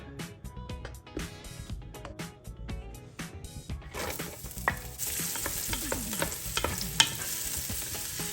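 Food frying in saved pork fat in a home kitchen, with steady close sizzling and crackling while it is stirred, growing louder and denser halfway through.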